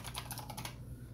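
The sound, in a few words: typing password on computer keyboard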